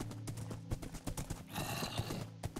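Hoofbeats clip-clop in a steady run from a Minecraft horse, and a shrill neigh rises midway and carries for about a second, loud and close with no talk over it.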